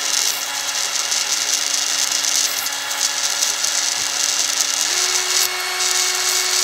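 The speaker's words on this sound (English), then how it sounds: "I take the bit here and I just kind of grind it across" A power-tool bit grinds across a wheel part during a wheel swap, giving a steady, loud, high whine that holds level, then shifts up in pitch partway through.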